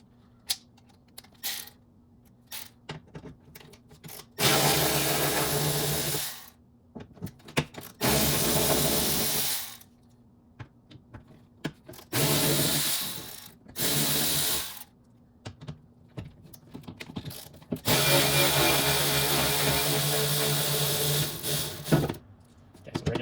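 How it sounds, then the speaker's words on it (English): Electric ratchet backing out window regulator bolts inside the door of a 1999 Pontiac Grand Prix: four separate close, loud whirring bursts of one to four seconds each, with quiet clicks and handling noises in the gaps. "Just going to use electric ratchet because it will make life easier, faster."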